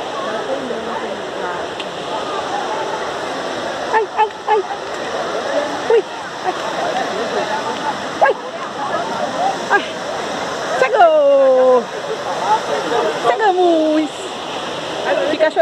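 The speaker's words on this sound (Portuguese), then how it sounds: "Atenção, cachoeira imprópria para o banho." A waterfall on a forest ecological trail in Parque São Bartolomeu gives off a constant rushing roar of falling water, with brief voices or calls rising over it now and then.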